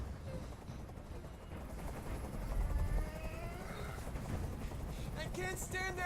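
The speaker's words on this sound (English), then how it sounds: "Tell that helicopter to get out of here." A helicopter hovers and drones steadily in the video game Detroit Become Human. Its low rotor thump runs under game sound effects and chirping tones.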